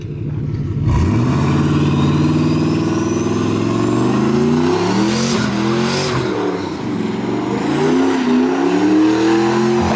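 A loud, throaty Mazda Miata engine revs hard and holds, its pitch rising and falling through repeated throttle blips for several seconds.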